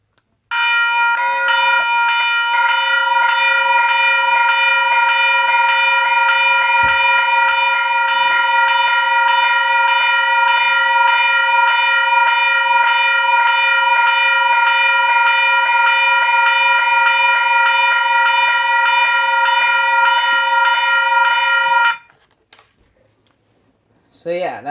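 Two Western Hayes electronic bells, a Type-2 and a Type-3, ring together in a loud, continuous metallic trill that runs unbroken for about twenty seconds, then cuts off abruptly, leaving near silence.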